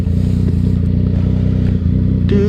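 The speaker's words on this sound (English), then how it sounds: "normally if I revved it up like that, fireballs would come out" A motorcycle engine idles with a loud, steady, throbbing rumble close by, with a brief rise in pitch at the very end.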